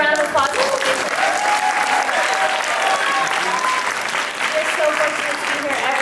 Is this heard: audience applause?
yes